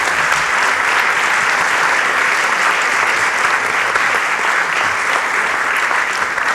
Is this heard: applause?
yes